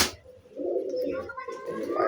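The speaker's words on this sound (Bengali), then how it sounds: "খুব ছটপটে পায়রা।" A restless pigeon held in the hand gives a low cooing call that swells and holds close by, with a soft rustle at the start.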